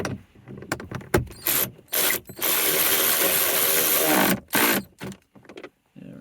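A ratchet socket wrench with a 10mm socket bolts a car head unit into a Lexus IS300 dash, its quick clicking pawl coming in close, repeated bursts separated by short pauses.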